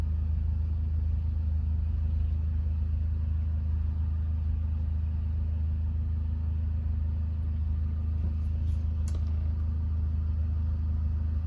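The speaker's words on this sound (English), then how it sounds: "To bring them in, you're just pushing that retract button, and it's going to start making its way in." Awning motor on a 2024 Forest River Wildwood 40 RLB-8 travel trailer retracting, a steady low electric hum and rumble running evenly throughout, with a couple of faint clicks near the end.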